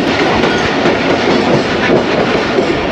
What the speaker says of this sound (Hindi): ड्रिक रोड जंक्शन पर बहुत ही स्पीडी एंट्री मारी है GMU-30 ने।